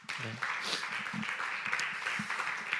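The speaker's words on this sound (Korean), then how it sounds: "찬양팀을 위해서 우리 박수를 격려하겠습니다" Young adult congregation at a Sunday worship service applauding the worship team, a steady wash of many hands clapping throughout, moderately loud, with a faint voice or two under it.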